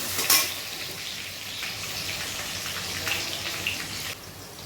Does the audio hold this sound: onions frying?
yes